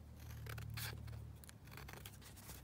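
Scissors snip and slide through paper while trimming a large book-page pocket, a few close cutting strokes with crisp rustling of the sheet.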